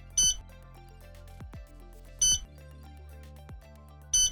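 An Ottobock Kenevo prosthetic knee joint gives short, high, electronic beeps at regular intervals about two seconds apart, three in all, crisp and clear over soft background music.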